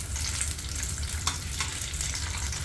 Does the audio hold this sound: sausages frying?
yes